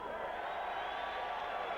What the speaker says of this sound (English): Big applause inside the Big Top Arena for Cassius Baloyi.